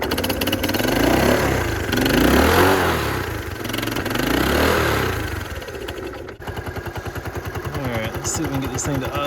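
A 1970 Honda Trail 90 motorcycle engine is run up close with the choke on. It revs up and down for several seconds, then settles into a rough, putting idle.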